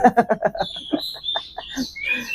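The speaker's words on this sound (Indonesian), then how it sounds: "Ini burung kacer bodi besar, teman-teman, besar sekali." A large-bodied oriental magpie-robin (kacer) sings close by, opening with a rapid series of rhythmic chattering notes, then shifting into clear, rising whistled phrases.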